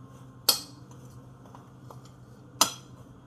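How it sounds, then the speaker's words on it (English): A spoon or utensil clinks twice against a bowl while dry oat cake ingredients with brown sugar are mixed, two sharp isolated knocks with faint scraping between, quiet room otherwise. "just mix up the dry ingredients"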